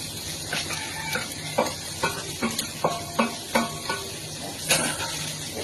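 Meat frying in a pan with onion and garlic, giving a steady sizzle broken by repeated scraping stirs of a spatula at a close, moderate level.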